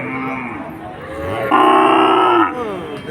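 A calf at a busy cattle market in Betaga, Bagerhat, lets out a long, loud, close moo, a low drawn-out call in the middle of the clip over market background noise.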